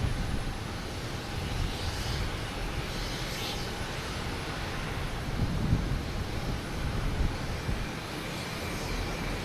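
A JetBlue Airbus A321 jet, flight 888, at Boston Logan produces a steady broad engine roar with gentle swells, heard alone without talk.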